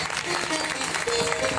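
A devotional gathering breaks into a burst of clapping, a short, loud, dense patter of many hands filling the hall.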